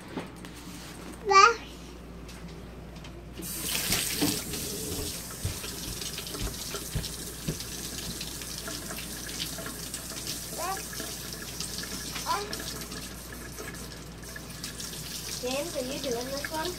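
A sink tap runs as children wash their hands, a steady faint water hiss filling the background after a short burst, while a child and an adult talk over it.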